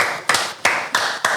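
Four sharp hand claps in an irregular rhythm, loud and close in a podcast studio, each with a short ringing tail and no speech.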